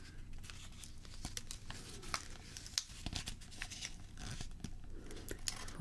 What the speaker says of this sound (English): Fold the paper.